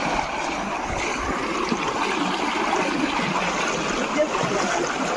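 A stream flows in the dark before dawn where it must be waded across, a steady, fairly loud rush of water with no breaks and no clear voices.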